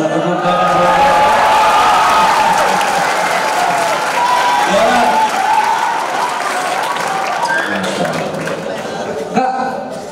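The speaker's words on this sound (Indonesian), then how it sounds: "Tepuk tangan." Students at an Islamic boarding school gathering applaud a fellow student, a loud crowd round of clapping mixed with cheers and chatter that gradually fades toward the end.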